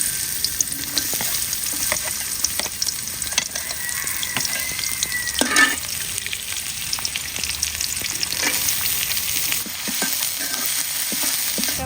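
Onions frying in hot oil for Rangpur-style sholka, a continuous crackling sizzle heard up close with scattered pops and a brief louder stir midway, no talking.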